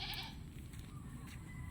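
A mother goat and her kid, newly acquired as pets, heard through steady low farmyard rumble with a possible bleat early on and no talking.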